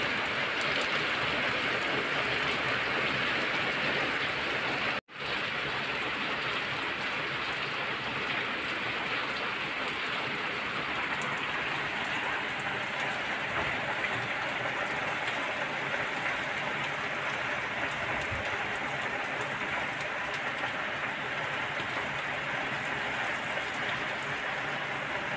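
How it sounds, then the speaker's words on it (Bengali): Steady, dense rain drums on top of a water tank without a break, joined by wind, with one brief dropout near the start. "ট্যাঙ্কির উপরে যে বৃষ্টি পড়তেছে"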